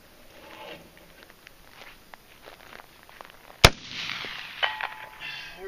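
A single sharp gunshot from an AR-15 rifle cracks out loudly outdoors, preceded by faint rustling and footsteps, then followed by a fading echo and a few smaller clicks and handling sounds.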